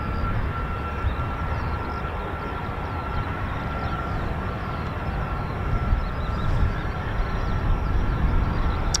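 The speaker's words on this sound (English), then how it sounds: "Sounds like they got another KC-135 just started up now." A KC-135 tanker's engines start up and run at RAF Mildenhall, a steady broad roar with a faint high whine, heard from a distance and holding constant without any talk.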